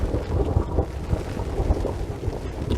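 Blizzard wind blowing over a snowy winter campsite, a steady loud roar with gusts and rumbling buffeting on the microphone, no voices.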